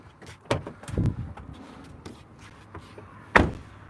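2012 Volkswagen Sharan Highline 2.0 TDI with a power sliding side door closing electrically: a few sharp clunks and a soft mechanical rumble, then a firm latching thump near the end, close by.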